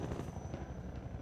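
A steady helicopter rotor drone with a rapid low chop, continuous and fairly loud, with no voices, from an attack helicopter in the video game Half-Life 2: Episode Two.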